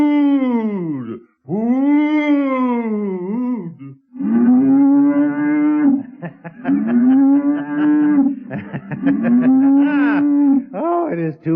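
A single ox lows loudly and close, drawn-out moans rising and falling in long bellowing phrases separated by brief pauses, alone with no talk.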